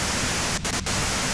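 Radio static from the game Disco Elysium, a dense steady hiss of white noise broken by two brief dropouts.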